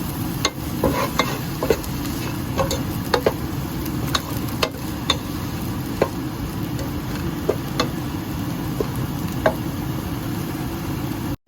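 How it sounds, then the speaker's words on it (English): Onions sautéing with salt in a pan for an egg curry, a continuous close sizzle broken by regular sharp clicks of a spoon stirring against the pan, no talking. "I'm putting a little salt so that the onion starts sweating. So let's saute it."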